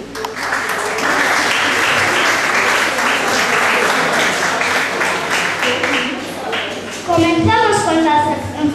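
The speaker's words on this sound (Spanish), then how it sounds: "Hagamos silencio, aplauso y comenzamos." An audience claps throughout at a school end-of-year show, a loud, busy patter of many hands that fades near the end as a voice begins speaking over a microphone.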